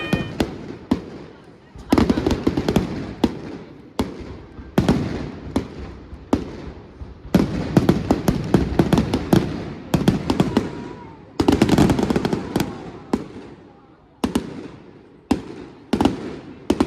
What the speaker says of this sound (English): First firework display of the year.